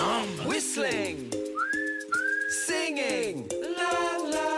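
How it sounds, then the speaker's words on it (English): A person whistles short, clear rising and sliding notes within a children's sing-along song about body parts, heard over light musical accompaniment. "Whistling"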